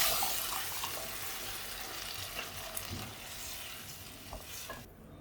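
Cooked dal and tomato poured into a simmering drumstick leaf curry, a soft steady wet splashing and sizzling that fades slightly toward the end, with no talking.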